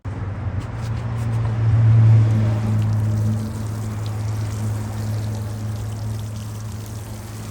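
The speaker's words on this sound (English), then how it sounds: "now what I want to do is water her in" Water pours steadily onto the soil around a Reliance seedless grape vine, rushing loudly at first and then settling into a softer continuous splash over a low background hum.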